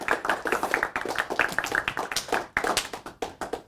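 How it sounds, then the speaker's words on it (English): Several people clap by hand at a university degree launch event, producing a steady run of crisp, fairly close claps with brief gaps, rhythmic and unaccompanied by speech. "Hand claps."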